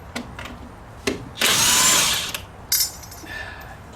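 A power tool, likely an impact driver or drill, whirs in short bursts while wheels come off a Chevrolet C10 truck in a garage, one longer run between brief taps and clatters.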